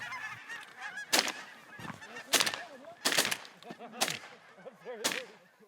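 Canada geese honk over decoys in an oat field in Manitoba: repeated loud, nasal honks from several birds overlapping in an irregular chorus, with sharp bursts standing out every second or so.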